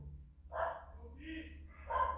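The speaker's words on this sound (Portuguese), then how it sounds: "tem um cachorro latindo" Faint, distant dog barking in the background, roughly three separate barks spaced about a second apart, with a voice talking quietly alongside.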